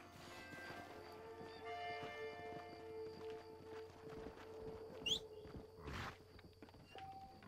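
Horse hooves clip-clop at a walking pace in the Western video game Red Dead Redemption, steady mid-distance steps under game ambience with faint bell-like tones and a soft voice.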